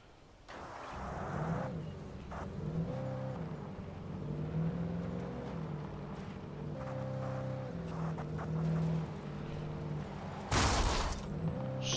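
A car engine in the video game Alan Wake hums steadily and shifts pitch as it drives, with a sharp burst of noise near the end.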